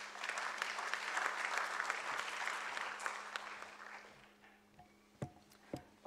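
A crowd of hands claps at the launch of a Tanzanian logistics and transport professionals' association, loud and sustained for about four seconds, then thins to a few scattered, fading claps.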